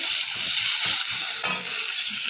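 Chopped tomato frying with ginger paste and spices in a pan, a close, continuous bright sizzle broken by soft scraping strokes of the spoon as it is stirred.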